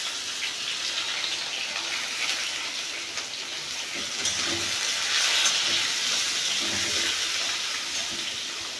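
Potatoes and radish frying in oil in a home kitchen, a steady close sizzle and hiss running throughout with light stirring clatter, no voices.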